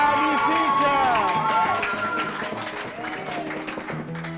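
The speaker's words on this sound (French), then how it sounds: "Josué et Caleb, on les applaudit encore" Audience applause at a school competition between C Saint Michel and C Saint André, sustained clapping and crowd noise that gradually eases while voices talk over it.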